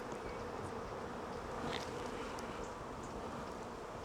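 Honey bees at an open beehive give a steady, dense buzz throughout, close and even, with no voices.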